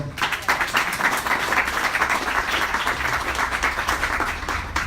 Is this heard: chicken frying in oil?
no